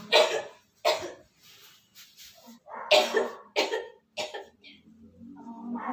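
A patient in a hospital bed coughs several times in short separate bursts, close and fairly loud, with a few quieter sounds between the coughs.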